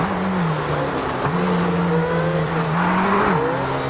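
Formula 1 cars in a racing video game sweep through a chicane at the Miami Grand Prix, a steady engine whine rising and dipping as the cars brake and accelerate through the turns, loud and continuous with no talk.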